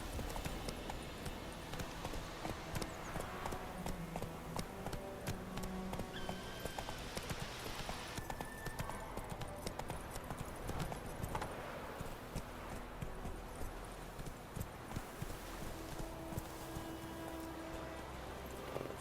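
Geralt's horse Roach gallops in The Witcher 3, a steady rhythmic clip-clop of hooves over game music and ambience, with no talking.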